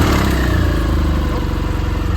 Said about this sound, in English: Let me get the bike started up and you can hear how she sounds